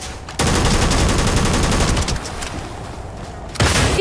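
Rapid automatic gunfire in the game Starfield sounds as a loud, dense burst of shots lasting several seconds, then a short pause before firing starts again.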